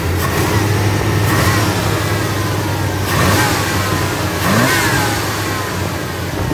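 A 1991 GMC Sonoma pickup's 4.3-liter V6 with automatic transmission revs up toward about 3,000 RPM, its steady engine roar stuttering and surging unevenly in a few weak, rough pulses, close and loud with no talking.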